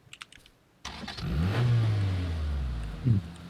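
A car engine in the battle royale game PUBG starts and revs up loudly after a brief quiet moment, then holds a steady, droning roar with a small rise near the end.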